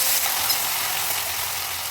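Potatoes drop into hot ghee seasoned with cumin and green chillies for sabudana khichdi, and a loud, even sizzle of frying fills the whole stretch.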